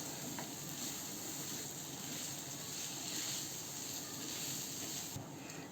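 Potatoes and green chillies frying in a pan, giving a steady, even hiss and sizzle that stays constant throughout with no talking.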